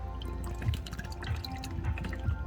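Steady drips of engine oil draining from a Dodge Grand Caravan into a container, a slow repeating patter over a low constant hum.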